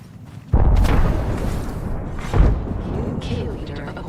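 A frag grenade in Apex Legends goes off with a loud, deep boom, then a second heavy blast follows a couple of seconds later amid continuous game noise.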